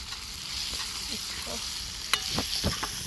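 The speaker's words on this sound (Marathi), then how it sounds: "कांदा मिरच्या टोमॅटो मस्त शिजलाय त्यात मसाला पण टाकून घेते लगेच" Onion, green chilli and tomato with masala fry in oil in a pan outdoors, giving a soft continuous sizzle with a few scraping stirs and spatula knocks toward the end.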